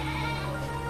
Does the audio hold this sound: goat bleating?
yes